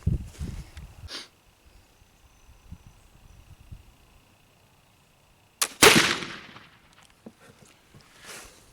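A muzzleloader fired with Swiss black powder after the touch hole was picked clear: one loud, sharp shot midway with a long ringing decay. Quiet handling and faint rustle fill the seconds before it.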